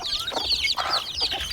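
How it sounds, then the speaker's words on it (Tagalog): Chickens clucking and chirping close by, a busy overlapping flock with small high peeps from chicks. "yung mga sisiw pa rin natin na manok"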